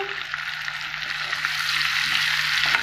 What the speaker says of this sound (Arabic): هنا عندي شويه ثوم راني قليته في شويه زيت، نزيد حبه طوماطيش